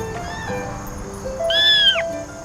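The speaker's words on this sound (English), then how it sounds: "Look at this kitten, so innocent and beautiful." A kitten lets out a clear, rising-and-falling meow near the middle, preceded by softer faint squeaks, heard close and alone against light background hum.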